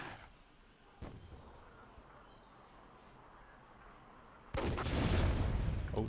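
In the Myth II Soulblighter game, a faint crack sounds early, then about four and a half seconds in a grenade explosion bursts in loud and near, followed by a sustained rumbling wash.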